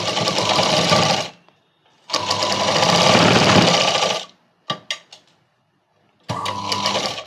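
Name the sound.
sewing machine stitching shoulder seams of a kids' night dress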